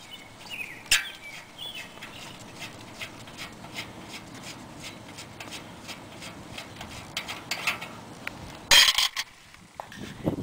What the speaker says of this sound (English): Next thing we've got to do is loosen one of the axle nuts.